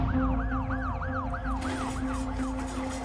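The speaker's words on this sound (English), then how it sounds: "there was already an ambulance racing to the scene" An ambulance siren wails in a steady up-and-down cycle, loud and close, over a constant low engine hum and road noise, with no talking.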